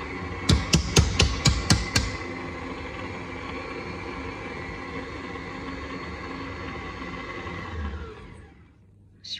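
Electric mixer whipping vanilla chiffon cake batter, a steady whirring motor hum that runs for several seconds and then winds down, preceded by a quick run of sharp knocks, close up.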